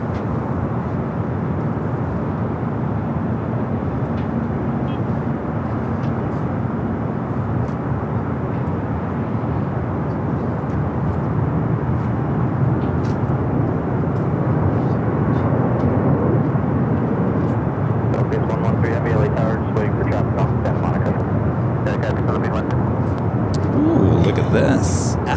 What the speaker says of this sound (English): Eva, Flight 5 heading back to Taipei, the 777 number 2 for takeoff on the south side